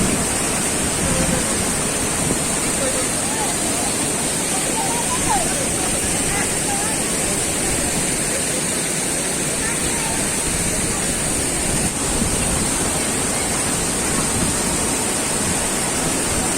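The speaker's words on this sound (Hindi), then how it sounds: "देखिए अब उसी फॉल के एकदम निकट आ चुके हैं" Usri Falls waterfall roars up close as a dense, steady broadband rush that stays loud and unbroken throughout, with no voices.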